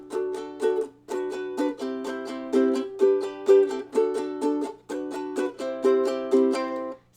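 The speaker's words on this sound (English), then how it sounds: "I switched to still eighth notes, so the same 1 and 2 and 1 and 2 and, but instead of doing fast little like fingernail strums that are quiet, I switched to down up strum" A ukulele strummed down-up in a steady eighth-note pattern, with full, fairly loud strokes rather than light fingernail strums, playing alone in clear repeating bars.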